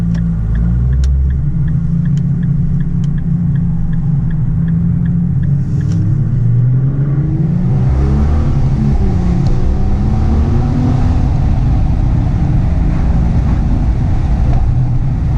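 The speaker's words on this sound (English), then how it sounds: "I'm getting some good noise from the exhaust as well" A Nissan GT-R R35 engine drones loudly and deeply, its exhaust note rising and sweeping as it accelerates, with steady road rumble underneath.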